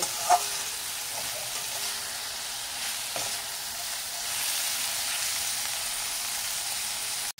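Large pieces of cauliflower fry in oil in a pan, giving a continuous soft sizzle with an occasional faint clink of a utensil, close and steady.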